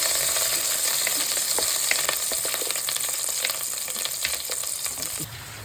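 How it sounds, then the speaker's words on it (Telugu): Freshly ground paste hits hot oil in a pan for a paneer cashew curry, setting off a loud, busy sizzle with scattered pops and crackles that gradually settles, heard alone without talk. "ఇప్పుడు ఇందాక మిక్సీ పట్టుకున్న పేస్ట్ని ఆయిల్లో వేసుకోవాలి."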